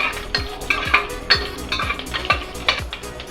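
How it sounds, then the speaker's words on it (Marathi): Sesame seeds and grated coconut stirred in a pan for Bhogi khichdi, a spoon scraping and tapping the pan in a steady rhythm of repeated strokes, close and clear with no talking. "थोडं तीळ आणि खोबरं टाकते सगळं परतून घेऊयात"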